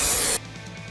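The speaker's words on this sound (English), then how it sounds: "Every spray just looks better and better." A spray can lays a coat of paint onto a Mercedes-Benz W211 grille in one short, loud hissing burst that stops abruptly, leaving quiet room noise.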